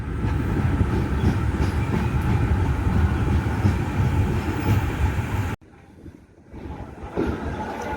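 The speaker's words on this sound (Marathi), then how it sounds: "सो आपली ट्रेन पण निघेल आता 2 मिनिटात" Konkan Railway Mandovi Express train rumbling steadily and loudly at close range for about five and a half seconds, then cutting off abruptly to a quiet background with faint noises.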